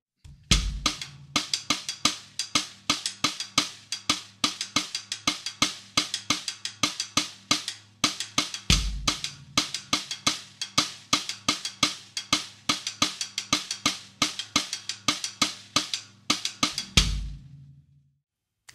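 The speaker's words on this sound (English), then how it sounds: "So the Partido Alto rim click pattern goes 1 2 1 2 3 1 2 1 2 1 2 3 1 2" A drummer plays a samba partido alto rim click pattern, with crisp, dry clicks in a steady syncopated groups-of-two-and-three rhythm and occasional deeper low thumps; close, loud and alone, ending abruptly.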